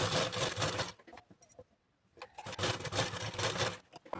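A sewing machine stitches the shoulder seams of a princess-cut blouse with a half-inch margin. Two close, steady runs are split by a brief quiet pause.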